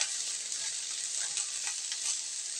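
Eggplant slices frying in oil over medium heat, a continuous bright crackling sizzle held steady throughout, close by and with no talk.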